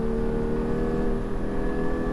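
A Porsche GT car's engine held high in the rev range on a track, a steady loud droning roar with a constant pitch over the whole stretch, heard from inside the car with no talk.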